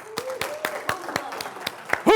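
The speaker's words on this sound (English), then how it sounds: "round of applause for David here." A small audience gives a short round of applause, with distinct separate claps in a loose rhythm rather than a dense roar, while someone speaks over it and a voice rises at the end.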